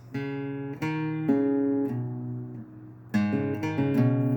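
An electric guitar plays a short riff of ringing notes and small chord changes, some notes bent or hammered, clean and close.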